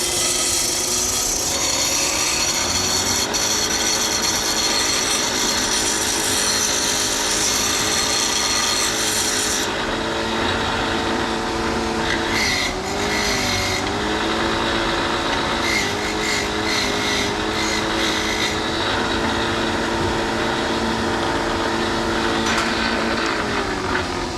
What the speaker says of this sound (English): Definitely time to upgrade this old grinder right here.